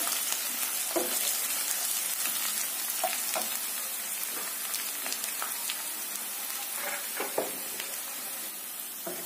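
Chopped green chillies and onion fry in a pan over a low-to-medium gas flame, giving a steady, moderate sizzle with scattered crackles and pops throughout and no talking.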